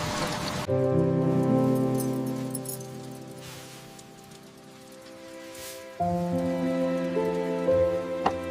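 Steady rain falls in a forest as a soft, continuous hiss beneath gentle sustained music that swells again partway through. No voices are heard.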